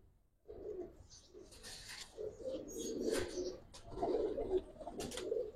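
Pigeons, a pair of giribaz and colour-breed birds, coo softly and repeatedly at close range in low throaty bursts, with a few faint chirps and light rustles between calls.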